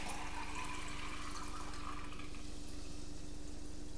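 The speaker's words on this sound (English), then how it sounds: "pouring into our Coca-Cola glass." Soda pours into a Coca-Cola glass with a steady, continuous rushing fizz at even loudness throughout.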